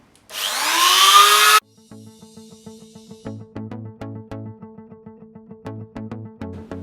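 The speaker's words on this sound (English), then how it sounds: "But first we'll just brush these up a little bit. I'm going to use the Dremel for that." A Dremel rotary tool brushing the contacts of a Porsche 928 instrument cluster board starts with a loud rising whine for about a second, then cuts off and gives way to a steady train of rhythmic mechanical clicks.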